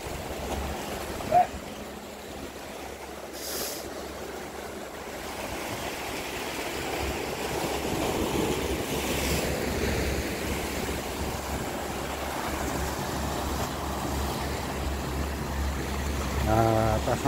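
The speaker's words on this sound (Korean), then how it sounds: "지금 파도가 이렇게 너무 많이 심해가지고" Rough sea waves pound the shore near a Korean coastal fishing village. The surf is a steady, loud roar mixed with wind buffeting the microphone, and it continues without a break for the whole stretch.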